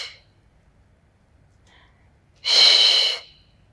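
A sharp, breathy exhale during a Pilates workout stands out as a single loud burst of air lasting under a second, with quieter breath sounds before it.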